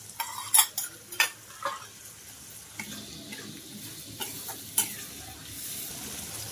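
Spice paste gravy for a vegetarian curry fries quietly in a pan while being stirred, with a few sharp scrapes and clinks early on over a soft, steady sizzle.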